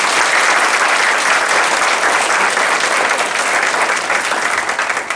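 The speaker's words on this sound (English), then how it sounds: "Let's just give them another round of applause." Sustained applause from an audience for candidates at a homeowners association board election meet-the-candidates session, dense steady clapping throughout with no talk.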